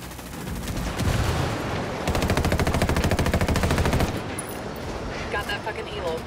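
Sustained automatic gunfire in a Ghost Recon and Rainbow Six Siege crossover PvE mission, loud rapid bursts of machine-gun fire packed with shots, most intense in the middle before easing into scattered combat noise.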